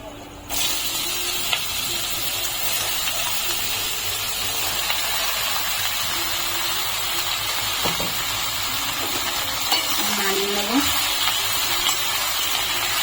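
Bottle gourd pieces go into hot oil with dry chilli and bay leaf, giving a steady, loud hissing sizzle that holds throughout, with faint stirring clatter and a voice speaking underneath.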